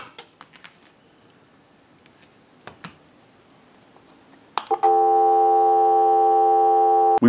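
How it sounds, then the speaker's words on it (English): A steady telephone dial tone from a Northern Electric Touch Tone three-slot payphone, under repair and conversion, cuts in loud and continuous after several sharp clicks of handling, then stops abruptly. "So we'll go ahead and give you some dial tone."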